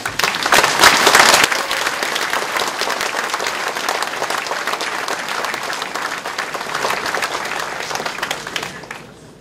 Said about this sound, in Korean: 믿음과 격려의 힘찬 박수로 서로 인사부터 나누십시다